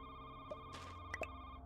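A telephone rings in an indie horror video game, a faint steady electronic tone running throughout beneath a low hum, with a few brief clicks and a soft rustle.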